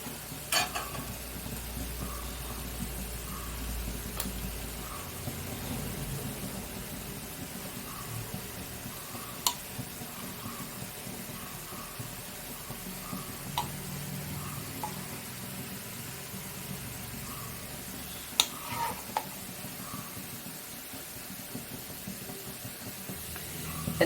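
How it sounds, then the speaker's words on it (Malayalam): Sardines fry in a pan after being turned over, giving a steady low sizzle and hiss with occasional soft clicks and scraping, faint and continuous throughout with no talk. "നമുക്കിനി ഇതിനെ ഒന്ന് തിരിച്ചിട്ട് കൊടുക്കാം."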